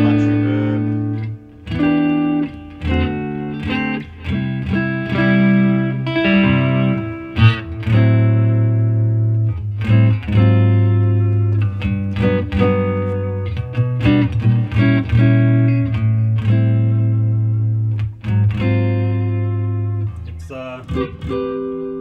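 Electric guitar played through a modelled Fender '65 Deluxe Reverb amp with a space delay, ringing chords and single notes with echoing repeats and a steady sustained tone throughout, no talking.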